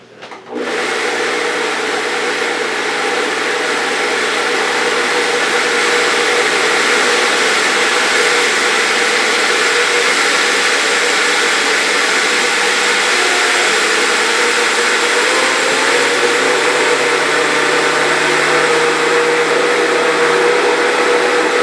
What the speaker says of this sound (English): we got 2 cups in the blender of raw sugar, and we're just going to blend that up